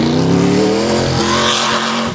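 Retired NASCAR Cup race car driving on an ice track, its engine roaring loud and close with steady high revs throughout, no talking.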